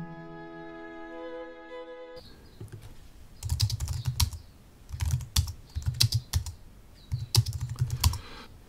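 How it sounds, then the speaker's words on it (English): Fingers type on a computer keyboard in close bursts of rapid key clicks separated by short pauses, after a brief electronic tone at the start. "the ability to type text into your tape is useful"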